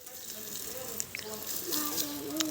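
Water from a bucket used to water plants in a garden plot: faint splashing and trickling, with soft voices in the background.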